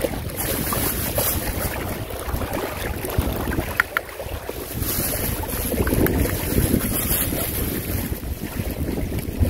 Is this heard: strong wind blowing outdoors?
yes